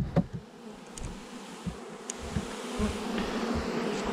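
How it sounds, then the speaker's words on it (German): A honey bee swarm being captured in Pfinztal in May drones continuously at low volume, with faint knocks and handling noises scattered over the buzzing. "Jetzt stauchen wir die Bienen auf."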